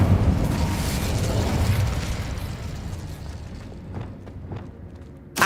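An Incendio fire spell is cast in Hogwarts Legacy, unleashing a deep roaring whoosh of flame that slowly dies away, followed by a few sharp crackling pops and a sudden bright burst at the very end.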